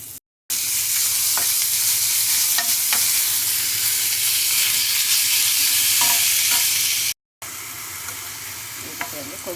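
Crushed garlic and tomatoes with chili powder and salt sizzle steadily in a hot pan, a loud continuous frying hiss with occasional stirring clicks, broken by two brief silent gaps.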